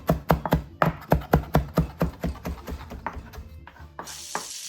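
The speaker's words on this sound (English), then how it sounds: "So I'm just chopping this parsley up for topping." Fresh parsley chopped for a topping: a knife striking a cutting board in a quick, even run of about a dozen sharp taps, close and clear, ending in a brief scrape.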